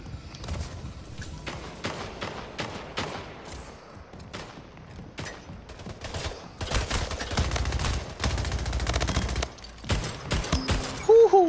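Rapid gunfire from a fast-firing weapon in the Splitgate shooter game, with bursts of sharp shots coming in quick succession, some spaced apart and some dense and sustained, loud and close.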